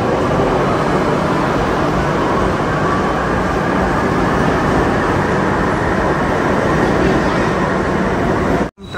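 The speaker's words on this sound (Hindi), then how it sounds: "So you can see that metro जा रही है हमारी।" Kolkata metro train pulling out of Tollygunge station, a loud continuous rumble and roar of the departing carriages filling the platform, holding steady before cutting off abruptly at the end.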